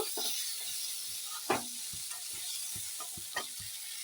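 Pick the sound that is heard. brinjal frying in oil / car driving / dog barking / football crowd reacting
brinjal frying in oil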